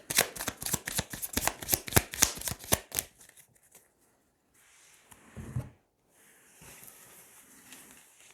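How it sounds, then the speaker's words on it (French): Tarot cards are shuffled close up in a rapid riffling run of crisp flicks, then the handling turns to softer, sparse rustles and quiet pauses. "On va tirer 9 cartes."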